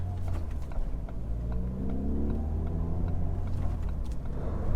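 A Ferrari 488 Pista's engine rumbles low and steady up close from inside the cabin on a hot day, with faint mechanical clicks and no talking.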